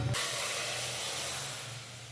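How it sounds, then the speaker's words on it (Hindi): A loud, steady sizzle of hot oil hissing continuously as dal is tempered, starting abruptly and fading slightly toward the end, with no voices. "अभी अम्मी दाल को लगाने लगी है तड़का।"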